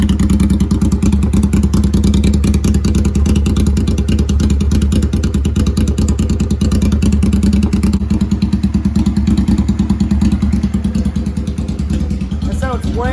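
A Honda Shadow 500 motorcycle with an X-pipe exhaust idling in the cold, a loud, close, steady low throb with a rapid even pulse, holding constant for the whole stretch.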